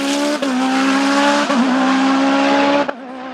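A race car drives at speed, its engine a loud, close, sustained high-pitched whine that holds nearly level, with brief dips and pitch shifts at gear changes, then drops away at the end.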